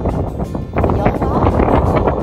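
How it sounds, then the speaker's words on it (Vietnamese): Strong wind gusting across the sandy Pinnacles Desert near Perth, Western Australia, buffeting the microphone in a loud continuous roar with a person speaking over it. "Gió quá."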